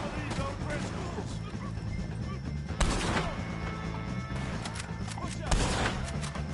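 Gunfire against O'Driscolls in the video game Red Dead Redemption 2, with a couple of sharp, loud shots standing out amid battle noise, while shouting voices carry over the scene.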